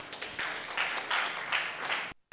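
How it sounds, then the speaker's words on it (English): Congregation at a midweek church service clapping, a faint, steady patter of many hands that stops abruptly at the end. "Clap for them."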